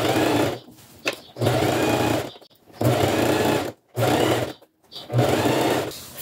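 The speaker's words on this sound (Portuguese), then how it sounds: "Agora vamos passar a costura dos dois lados," A sewing machine stitches the side seams of a cushion cover in four bursts of rapid mechanical whirring, with abrupt stops and short gaps between runs. It sounds close and fairly loud, with no talking.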